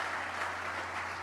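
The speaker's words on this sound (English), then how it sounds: "They deserve a big round of applause." Steady applause from a crowd at the groundbreaking for the Athletics' Las Vegas ballpark, continuous clapping with no voices over it.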